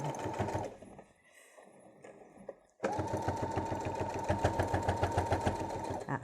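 A sewing machine stitches a travel pouch in a fast, loud, steady run, stops for a short quiet pause, then resumes stitching continuously, close up.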